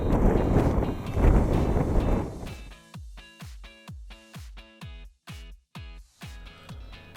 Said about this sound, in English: You can hear the wind, and you can see those flags just sticking straight out.